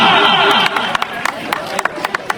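A crowd cheers and applauds at a music performance: a loud dense roar of voices and clapping at first, then thinning into scattered sharp individual claps as a voice speaks.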